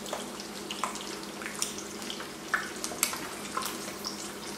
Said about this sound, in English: Eggs can't be any better than when they baste in bacon grease here.